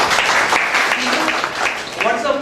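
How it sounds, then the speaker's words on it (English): A loud round of applause from an audience at a gathering, dense clapping filling the moment with crowd voices mixed in. "Give a great round of applause for it."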